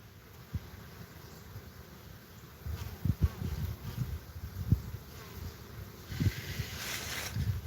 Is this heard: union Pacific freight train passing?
no